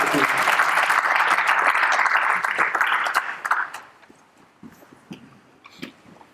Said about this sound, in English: big round of applause to Nikki for showing us.